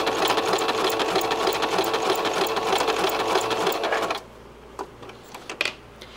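A domestic sewing machine runs a zig-zag stitch around a patch appliqué on a diaper, a fast steady mechanical chatter that stops abruptly, leaving a few faint handling clicks.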